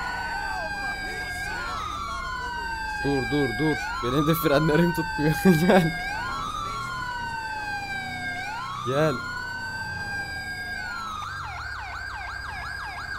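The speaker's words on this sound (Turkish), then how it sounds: "Aç sireni gel." A police siren wails from a vehicle in the GTA 5 video game, cycling through rising and falling sweeps and switching to rapid yelp patterns, while players talk over it and car sounds punctuate the background.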